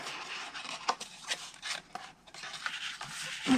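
Scissors cut through cardstock for a Christmas tree cake box, making close, soft snipping and rasping strokes in short irregular bursts with brief pauses between them.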